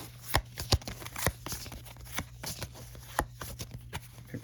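Cards from the Final Girl board game are shuffled by hand on a table, giving a quiet run of sharp, irregular flicks and taps over a few seconds.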